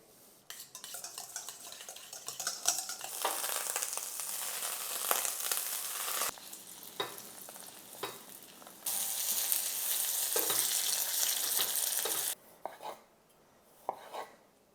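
Ingredients for a smoked salmon burger are stirred in a frying pan over a steady sizzle, with scraping strokes, occasional utensil taps on the pan and a few louder bursts of frying, fairly close and with no talking.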